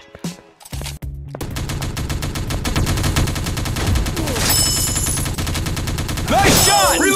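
Rapid automatic gunfire in a mobile first-person shooter with teddy bear characters, bursts rattling almost continuously at close range over game effects, with short shouted voice lines mixed in.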